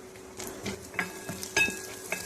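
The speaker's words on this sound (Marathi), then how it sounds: "आता कांद्याला 2 मिनिटं परतून देऊ आपण चांगलं" Peanuts and chopped onion sautéing in a pan, a soft ongoing sizzle broken by several scraping stirs and light clinks of the spoon against the pan, fairly quiet and close with no talk.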